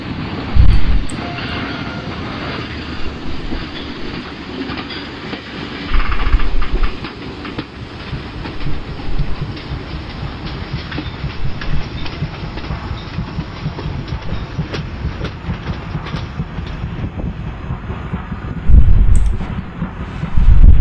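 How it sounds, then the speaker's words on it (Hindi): Two simulated Rajdhani Express trains pass each other in the Open Rails (MSTS) train game, a loud continuous rumble of locomotive engines and rolling wagons with heavy low thumps at the start, middle and end. "तो दोनों राजधानी एक्सप्रेस अप एंड डाउन दोनों एक दूसरे से क्रॉस होती हुई"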